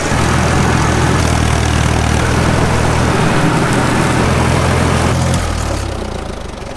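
A tractor engine idles steadily beside a farm pond, a loud, constant low rumble that holds for most of the stretch before easing down near the end.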